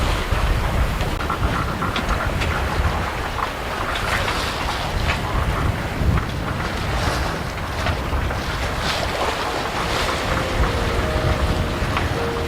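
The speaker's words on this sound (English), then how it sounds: "We are sailing! Like, for real, with no motor." A sailboat under sail with the motor off, moving at about five knots: steady broadband wind rush and water wash along the hull, continuous and close, with gusting wind buffeting the microphone and no voices.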